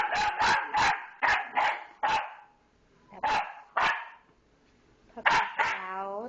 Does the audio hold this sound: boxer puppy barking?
yes